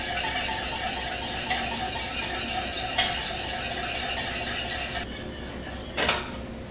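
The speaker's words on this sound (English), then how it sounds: "Just keep stirring it because you don't want it to burn on the bottom of your pan" A utensil stirs homemade whipped frosting as it thickens in a pan on a stovetop burner, giving soft continuous scraping with a couple of sharper clinks against the metal. No one speaks.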